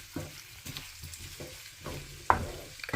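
Chilli chicken being stirred in a frying pan, a spatula scraping in repeated strokes roughly every half second over a continuous oily sizzle, with one sharper clatter, close and moderately loud.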